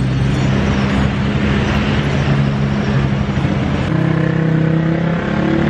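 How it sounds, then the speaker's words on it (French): Busy city street traffic in Baguio, Philippines: a continuous close rumble of car and motor engines, with one vehicle idling and revving nearby, no voices. "La circulation, le trafic ici, c'est vraiment quelque chose."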